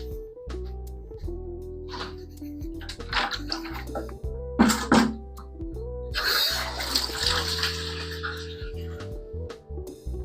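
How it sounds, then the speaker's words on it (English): Water pours into a bucket from a tap, with intermittent splashing bursts and a rushing fill over a steady mechanical hum, while a person talks nearby. "I'm gonna go fill up one more bucket."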